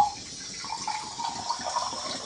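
Hot water is poured into a pot of sabudana for a chakli dough: a steady, close splashing pour runs for about two seconds with no talking.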